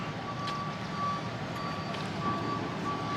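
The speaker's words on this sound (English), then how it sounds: "They're working on the roads down here. That's what you hear." Reversing beeps from a road works vehicle, a steady repeating tone across the street, continuing at an even rhythm over a constant broadband rumble of traffic and machinery in a small-town setting.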